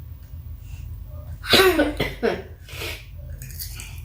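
A short burst of coughing from one person, close and fairly loud, with a couple of harsh coughs and breathy throat sounds in between, over a quiet room.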